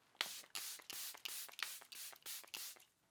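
Charlotte Tilbury Airbrush Flawless Setting Spray mists out in about eight quick, close hissing bursts at a steady rhythm, with no talking.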